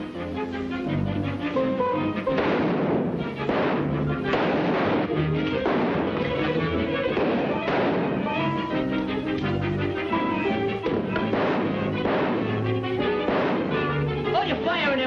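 Repeated gunfire in an old horror film, a dense, loud run of shots and bursts roughly every second over a muffled, band-limited soundtrack, with voices mixed in.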